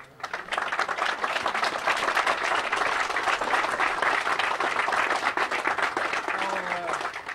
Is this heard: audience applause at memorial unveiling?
yes